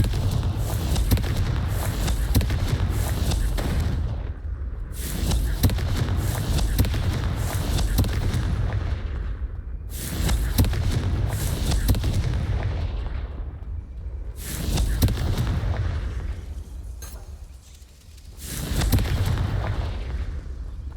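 The Confringo fire spell goes off in Hogwarts Legacy as heavy booming explosions in long, dense waves, each lasting several seconds and broken by short gaps, loud and continuous with faint voices underneath.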